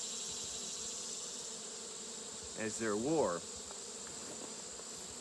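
Honeybees hum inside a sparsely populated Layens hive, a faint steady drone running under the whole clip while a person speaks briefly in the middle.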